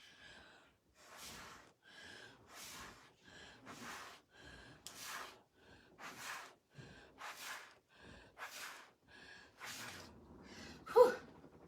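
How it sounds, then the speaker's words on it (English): Breath blown through a silicone straw during a paint pour on a candy cane, soft airy puffs in short repeated bursts at close range, faint and alone. "I'm trying to blow gently and also not get this on my shirt."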